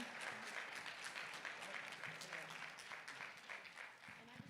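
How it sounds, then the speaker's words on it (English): At a 2024 State of Black Tennessee town hall, an audience applauds its panelists with a steady, moderately faint wash of clapping that holds for several seconds, with a faint murmur of voices mixed in. "please give our panelists a big round of applause"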